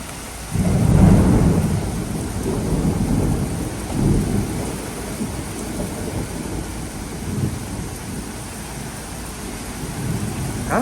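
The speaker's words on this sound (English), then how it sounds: "I don't think we've had a storm like this all year so far." Heavy thunderstorm over a golf course, with a loud rolling thunder peal near the start and further rumbles fading in and out over the steady hiss of downpouring rain.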